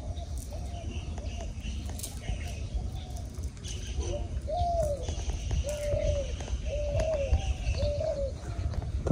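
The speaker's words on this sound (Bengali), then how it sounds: "ঘুঘু পাখির ডাক।" Dove calling outdoors in a village by a fishing pond, a series of soft hooting coos repeated in a steady rhythm over a low background hum, with light chirps nearby.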